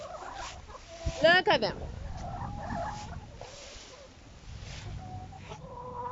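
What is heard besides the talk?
chickens clucking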